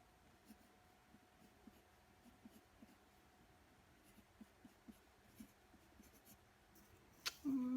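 Faint, close scratching strokes of lettering being sketched on paper, coming in irregular short bursts over a quiet background, ending in a louder bump and a brief tone.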